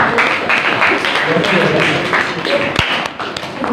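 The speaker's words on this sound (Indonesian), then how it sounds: "Kita kasih aplaus dulu pada kelompok yang kita" A classroom applauds a student group after their presentation on enzymes, with steady, close clapping from many hands that continues for a few seconds and is mixed with voices.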